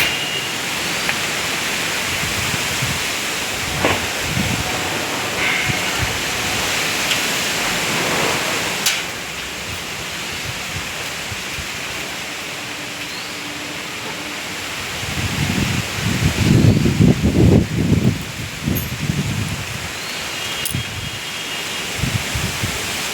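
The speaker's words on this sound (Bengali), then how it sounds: "হাওয়া শুরু হয়ে গেছে, শুরু হয়ে গেছে হাওয়া।" Steady wind blowing through trees near houses, a broad continuous rush of rustling leaves, with a stronger gust surging toward the end; a plastic tarp on a neighbouring building under construction is nearby.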